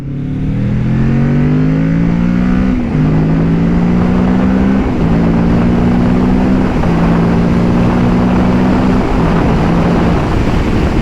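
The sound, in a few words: Kawasaki Ninja 650 motorcycle accelerating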